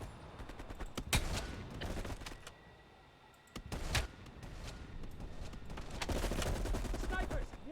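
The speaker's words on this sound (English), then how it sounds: "You readied your sniper rifle to assist." Black Ops Cold War gunfire with sniper rifle shots: sharp, loud single cracks and rapid bursts that come in clusters, with a brief lull before the firing picks up again and grows steady toward the end.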